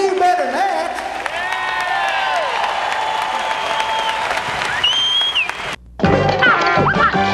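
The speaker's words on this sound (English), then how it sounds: "That's a early morning Methodist applause." Audience applause rings out at a Southern gospel concert during the National Quartet Convention, a steady, full crowd clapping that runs for several seconds with voices over it, briefly drops away, then picks back up.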